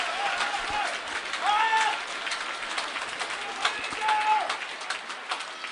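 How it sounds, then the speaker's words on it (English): Badminton crowd at the 2012 Asia Championships finals applauding a diving return by Chen Jin: a steady wash of clapping and cheering fills the hall, swelling twice, with faint squeaks and calls over it. "the crowd here appreciating the diving from Chen Jin"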